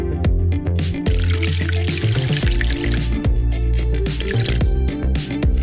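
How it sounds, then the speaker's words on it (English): Tea is poured into cups: a loud, close trickle and splash of liquid with drips, running steadily and mixed with bright clinking tones, with no talking. "Belle, can you pour tea for everyone?"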